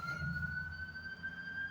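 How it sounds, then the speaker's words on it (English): Police sirens wail at a distance, a steady high tone holding under a low rumble of traffic, faint and continuous with no talk. "see all these sirens?"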